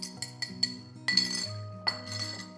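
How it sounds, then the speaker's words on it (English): Mashed berries spooned into a bowl give a string of bright, close clinks and taps of a utensil against glass, several quick knocks over a couple of seconds with no voices. "The mashed berries are going in."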